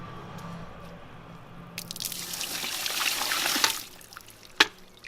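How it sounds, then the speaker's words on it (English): Dirty black water is tipped from a container into a street drain, a short splashing gush that trickles away, followed by a single sharp drip or knock. "let's tip this into the drain"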